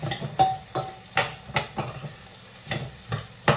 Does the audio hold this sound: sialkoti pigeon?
no